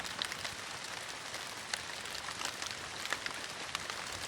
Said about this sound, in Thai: ฝนตกเลยพี่น้องเอ้ย